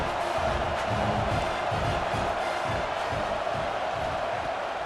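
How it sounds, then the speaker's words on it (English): A stadium crowd at a Florida Gators football game roars and cheers in a continuous, dense wash of noise that swells and eases slightly throughout. "This crowd bringing the energy and noise early."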